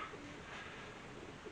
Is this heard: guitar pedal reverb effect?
no